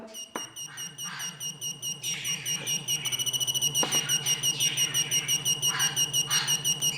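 Rapid, regular electronic beeping pulses from a homemade metal detector pinpointer, close and steady, speeding up partway through as it nears a coin, with a high whine above.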